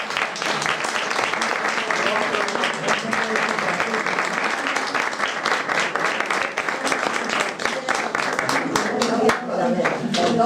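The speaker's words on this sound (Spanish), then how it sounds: "Un aplauso para Pepe" An audience claps for a speaker at a first presentation event: dense, steady, close applause with many overlapping hand claps, lasting throughout at a constant level, with murmured voices underneath.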